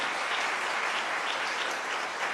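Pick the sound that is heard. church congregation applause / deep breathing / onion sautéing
church congregation applause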